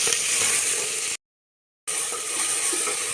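Tomatoes sauté in a pan with a loud, steady, hissing sizzle up close. The sound cuts out to complete silence for under a second, then the same sizzle resumes.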